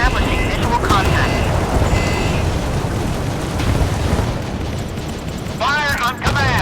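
Warship guns and explosions in the naval combat game Force of Warships, with the Phantom Fury ship in action: dense, continuous rumbling booms and blasts layered over one another, loud throughout, with game voice lines over the battle.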